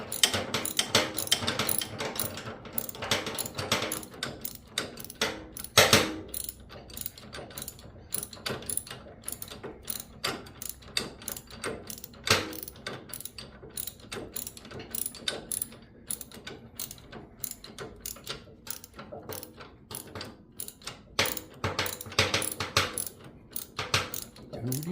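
Torque wrench ratcheting on the primary case bolts of a Harley, a long run of dense, rapid clicks near and loud, broken by brief pauses and a sharper knock early on, with no talking.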